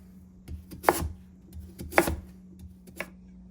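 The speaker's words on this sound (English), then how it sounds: "Then you chop it to small pieces." Knife chopping peeled sweet potato into small pieces, three distinct, evenly spaced sharp cuts against a board, close up, with faint clicks between and no talking.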